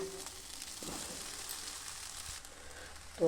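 Tomato and chopped green chili fry in a pan while being stirred, giving a soft, steady sizzle with a few faint stirring clicks and a louder knock at the very end.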